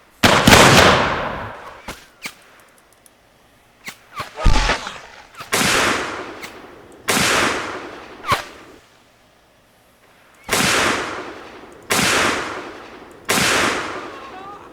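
Musket volleys in a US Civil War Remake mod video game crack out as a series of sharp, loud bursts, each with a swooshing decay, spaced irregularly across the span.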